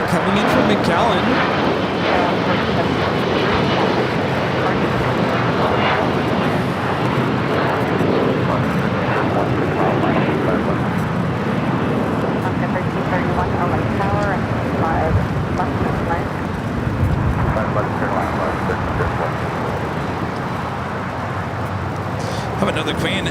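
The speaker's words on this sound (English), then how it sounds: "Allegiant Air 2404 coming in from McAllen." An Allegiant Air airliner on flight 2404 from McAllen lands at LAX, its engines a loud, continuous broadband roar that holds steady for over twenty seconds, with faint voices now and then beneath it.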